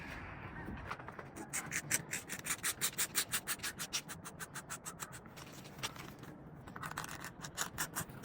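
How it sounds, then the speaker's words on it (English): A small hand tool tracing a king penguin pattern onto a block of ice, a rhythmic close scraping and rubbing with quick regular strokes throughout and no talking. "I'm gonna trace this out using this little tool here and just kind of get the pattern on the ice."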